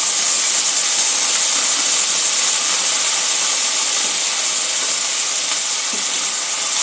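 Potatoes frying in a hot pan for sponge gourd shukto give a steady, loud hiss and sizzle that stays even throughout, with no voices.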